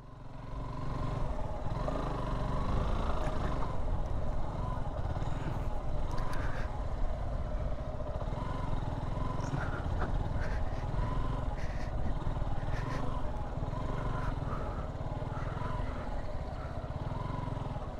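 A motorcycle engine runs steadily on a group bike tour in Feni, Bangladesh, a continuous close rumble with slight rises in revs throughout.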